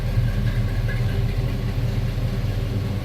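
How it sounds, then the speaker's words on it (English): A 1971 Chevrolet Nova's 350 V8 idles with a steady, deep rumble close by, even and unbroken for a few seconds with no voices. "Nice little rumble out of that 350"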